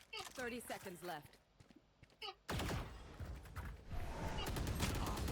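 Video game gunfire cracks out in rapid bursts, loud and close, with a player talking excitedly over the first part before dense shots fill the rest.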